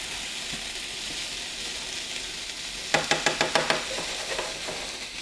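Sausage stuffing meat frying in a pan gives a steady broadband sizzle throughout, joined midway by a quick run of about six sharp scraping or tapping strokes of a utensil against the pan, with no talking.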